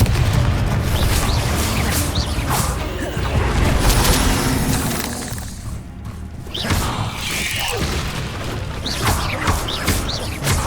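Confringo blasting spell explosions boom through busy PC combat in Hogwarts Legacy, heavy blasts and mechanical clatter layered over a steady loud game soundscape.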